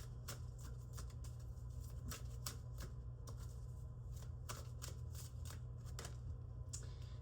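Oracle cards are shuffled by hand, giving a quiet run of rapid papery riffles and soft slaps over a low steady hum.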